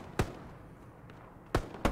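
Gunfire in a shooter video game: a sharp shot near the start, then two more in quick succession toward the end, loud and close over quiet background.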